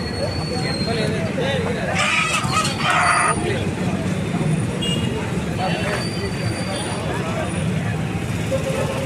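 A rooster crows at a country chicken market in Eluru, the call rising over constant crowd chatter and background noise while people talk nearby.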